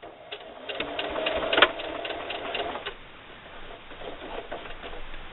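A sewing machine stitches fabric onto pellon interfacing for a drawstring backpack, with a short burst of rapid stitching followed by a quick backstitch, then quieter intermittent machine clatter. No one speaks over it.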